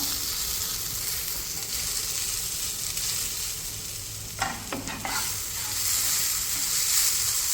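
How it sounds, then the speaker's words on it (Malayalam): A paste of ground coconut, green chili, turmeric and onion sautés in a pan with a steady, bright frying hiss, and a few scraping stir strokes come near the middle, with no talk. "അരപ്പ് ചേർക്കാം അരപ്പൊന്ന് വഴറ്റി കൊടുക്കാം"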